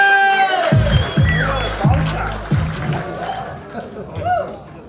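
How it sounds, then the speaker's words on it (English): Comedy club crowd at an Australian Comedian of the Year show claps and cheers loudly in rhythmic bursts around a host's voice, with shouting and crowd babble throughout. "Let's start the applause! Louder, louder, so we'll be cheering"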